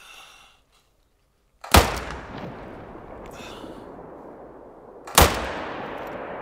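Two loud, booming rifle shots from the Reaper hunting rifle in theHunter: Call of the Wild, about three and a half seconds apart, each followed by a long rolling echo across open terrain.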